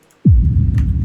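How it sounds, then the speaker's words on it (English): An impact sample gives a single heavy hit with a falling low boom that sustains as a dense rumble, loud and alone. "Impact is also another sample."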